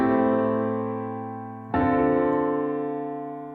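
Piano chords ring out in a jazzy progression, with a minor two chord in place of the four. Two sustained chords are struck, each decaying slowly, and no one talks.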